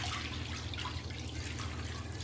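Water poured into a kadai on a gas stove for palak paneer makes a faint, continuous splashing trickle under low background hum, with no talk.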